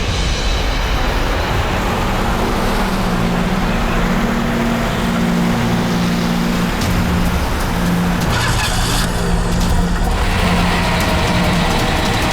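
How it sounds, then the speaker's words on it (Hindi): A car engine with cloth stuffed into its silencer runs in a steady, loud, muffled drone for the whole stretch, its low rumble unbroken and with no one speaking over it. "उसके साइलेंसर में कपड़ा डाला है मैंने।"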